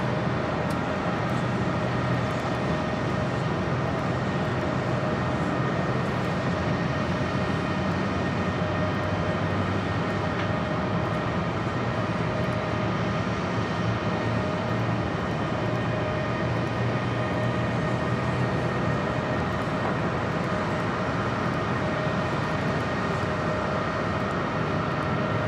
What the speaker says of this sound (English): Caribbean Airlines coming in